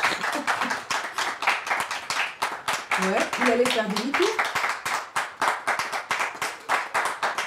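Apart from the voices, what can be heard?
studio audience applauding guest's entrance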